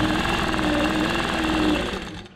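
A sewing machine stitches a memory quilt in a quick, even run of close mechanical clatter that keeps its rhythm for about two seconds, then cuts off abruptly.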